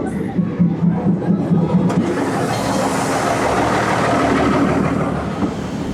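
A train rolling very close through Maeklong Railway Market in Thailand, a loud continuous rumble and clatter building in after a brief crowd murmur and lasting steadily throughout.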